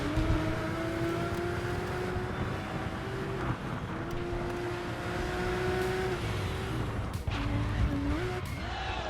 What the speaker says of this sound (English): I squealed the tires a little, but I took it decently.